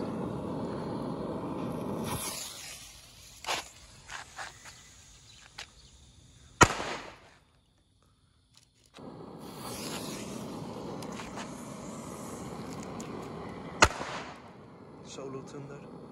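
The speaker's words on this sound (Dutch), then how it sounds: "Nou, hier zo hebben we een Black Cobra Solo Thunder China Red knallertjes. Gaan we even opstoken achter elkaar." Black Cobra, Solo Thunder and China Red firecrackers go off one after another outdoors, sharp loud bangs and cracks separated by pauses, with rustling and background noise between the blasts.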